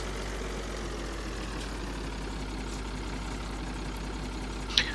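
Tractor engine in Farming Simulator 2013 running at a steady low drone, a continuous mechanical hum that stays even throughout, with a brief click near the end.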